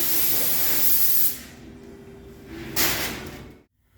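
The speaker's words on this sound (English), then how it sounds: "Putting the last coat on after the candy." A spray gun lays a final clear coat over candy purple metal-flake paint on a golf cart, giving a loud, steady hiss that stops, returns about a second later and then cuts off.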